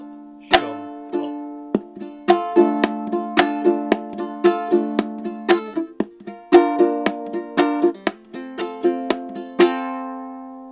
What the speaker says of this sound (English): And we're hitting the bottom of the uke with the back of our fingers.